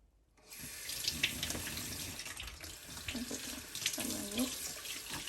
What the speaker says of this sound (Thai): เราก็จะเอาเปลือกไข่นะคะ ไปล้างกันค่ะ